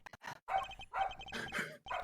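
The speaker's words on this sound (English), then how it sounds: "And I gained a dog." A dog in the Apollo Justice video game barks in a quick series of sharp yips and woofs, close and clear with short gaps between them, no talking.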